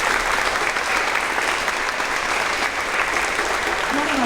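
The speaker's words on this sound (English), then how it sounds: "Let's give that a big round of applause." A crowd at a fifth-grade promotion ceremony applauds steadily, dense clapping sustained at even volume from start to finish, with a voice faintly audible underneath.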